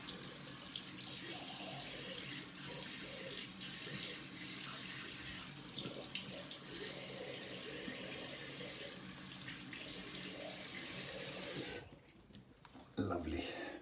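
Tap water runs steadily into a sink while a razor is rinsed, a continuous close splashing rush that cuts off near the end, followed by a few brief clatters.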